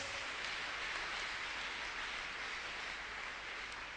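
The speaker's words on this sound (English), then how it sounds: "Can we clap for Jesus?" A church congregation applauding for Jesus during a testimony service, heard as a continuous, fairly faint wash of many hands clapping at once with no pauses.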